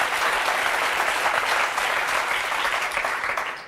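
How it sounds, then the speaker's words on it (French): Studio audience applauding on a French daytime talk show, a dense, steady wash of clapping that holds loud for nearly four seconds before starting to taper. "je crois qu'on peut applaudir"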